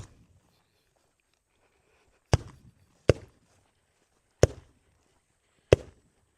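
Four sharp, loud gunshots from a Glock 45 9mm pistol, spaced about a second apart after a short quiet start, each a sudden crack with a brief ringing decay.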